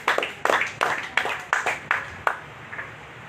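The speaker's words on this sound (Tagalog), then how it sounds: "Palakpak po sa Diyos." A church congregation claps together in a steady rhythm, about eight crisp, evenly spaced claps ringing in the hall before fading out.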